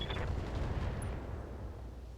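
In the BattleTech video game, a mech fires a volley of rockets and a medium laser, heavy booming blasts with rumbling low end that decay over about two seconds, loud and close.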